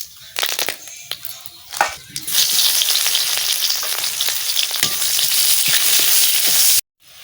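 Bay leaf and cumin seeds hit hot oil in a pan, a few soft clinks, then a loud, close, steady crackling sizzle that holds until it cuts off abruptly near the end.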